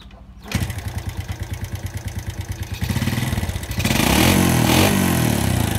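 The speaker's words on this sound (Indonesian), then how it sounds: "kita coba nyalakan motor" A Yamaha Jupiter motorcycle engine cranks and catches, settling into a steady close idle, then revs up louder and holds at a higher rumble.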